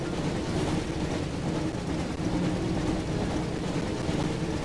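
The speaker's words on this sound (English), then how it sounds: "Looks like we found the train, Ron." Train in the Harry Potter and the Chamber of Secrets PlayStation game, a loud continuous rumbling roar of the moving train filling the whole stretch with steady noise.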